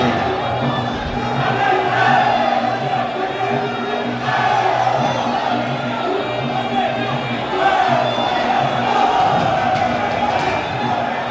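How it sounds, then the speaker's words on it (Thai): Crowd at a Muay Thai fight cheering and roaring continuously, a dense, loud wash of many voices that swells in waves, with commentary audible beneath it. "เดี๋ยวฟังเสียงเฮเสียงเชียร์ไปก่อนครับช่วงนี้"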